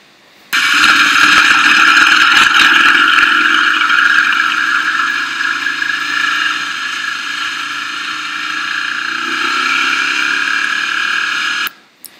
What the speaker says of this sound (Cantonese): 嗰個引擎嘅聲音咧就出得好好多嘅